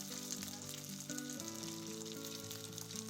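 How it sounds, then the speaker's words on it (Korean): Bell pepper and zucchini jeon pan-frying, a quiet continuous sizzle of batter in oil heard up close, with faint tonal background music underneath. "파프리카 전과 호박전도 뒤집어 주세요"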